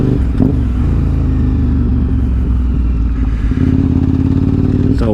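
A KTM 950 SMR motorcycle engine drones steadily as it climbs a mountain road in the Angeles National Forest, loud and close, with a gear change and a rising rev near the end.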